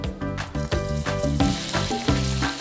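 Pork belly frying in a pan for a sinantolan dish, with a dense, steady sizzle and crackle throughout, close and fairly loud, with no talking.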